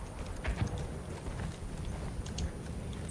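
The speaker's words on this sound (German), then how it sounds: "Kommt nochmal ein Pferd zu A." Horse hooves galloping in the World War I shooter Battlefield 1 on a desert Sinai map, a rhythmic muffled clip-clop thudding steadily under dense battle ambience, fairly close and continuous.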